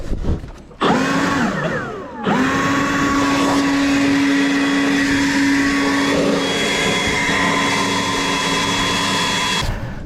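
A leaf blower clearing packed leaves out of a roof gutter, loud and close, with a brief start-up surge before settling into a steady whining roar that runs continuously.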